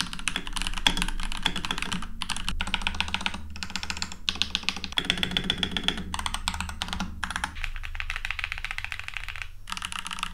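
Someone types on a new mechanical computer keyboard, a close, crisp stream of clicky keystrokes in quick irregular bursts with short pauses between runs, alone without talk.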